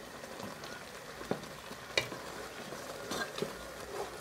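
Sugar syrup bubbles and sizzles softly in a pan as groundnuts are stirred through it, a faint continuous crackle broken by occasional scraping knocks of the spoon.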